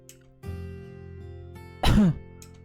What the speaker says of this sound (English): She was caught in a fit of coughing.